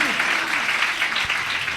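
A church congregation applauding during a sermon, dense continuous clapping filling the room at a steady loud level, with a preacher's voice briefly audible beneath it.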